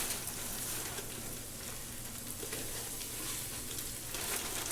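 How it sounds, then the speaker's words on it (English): Pork chops browning in a hot skillet give a steady, dense sizzle that holds evenly through the whole stretch, fairly close with no talking. "Then you put them right in your skillet or your slow cooker, and you want to brown them on both sides."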